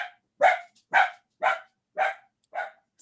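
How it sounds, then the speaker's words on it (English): A dog barks six times in a steady, evenly spaced series, each bark sharp and fairly close, with quiet gaps between and no other sound. "Excuse my dog, everyone."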